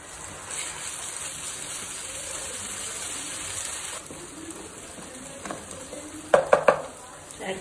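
Onions and ginger garlic paste sizzling in a pan at a moderate steady level, with stirring scrapes and a cluster of sharp metallic utensil clinks near the end, no voices.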